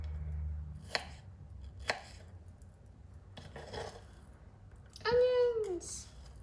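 A knife chops onions on a board in a few sharp, spaced knocks, with a voice breaking in near the end.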